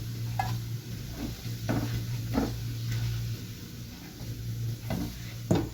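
Onions frying in a pan while being stirred, quiet background sizzle broken by several scraping spatula strokes at irregular intervals, with a low steady hum underneath and no speech.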